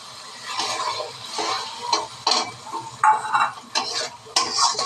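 Nigella seeds and onion paste dropped into hot oil for a mustard-based Bengali dish, giving a sizzle broken by several sharp bursts as ingredients hit the pan, with scraping stirs in between, close and fairly loud.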